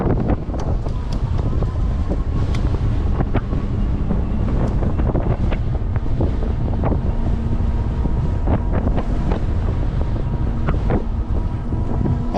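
Heavy wind buffets the microphone during an e-bike ride, a loud, steady roar with scattered gusts and rattles running the whole time and no talking.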